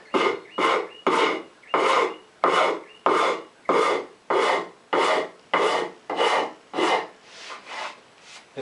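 Hand rasp filing a carved wooden stool seat: about fourteen loud, close, rhythmic rasping strokes, each a coarse scraping push with short gaps between, no talking.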